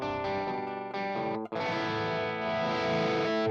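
Electric guitar played through a modeller with its volume knob rolled down gives a cleaner sustained chord, with one brief gap before it rings on, loud and alone.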